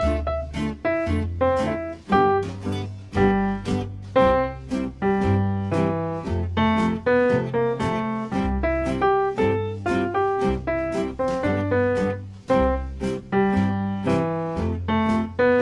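A keyboard plays a lively single-line melody with bass notes underneath, steady and continuous for the whole stretch, close and clear.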